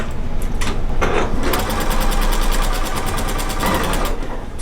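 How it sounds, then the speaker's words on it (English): A regular home sewing machine quilting a quilt runs steadily at close range, its loud, fast needle chatter and motor hum holding an even rhythm throughout, with no talking. "the machine just sort of moves the quilt along like it's supposed to do"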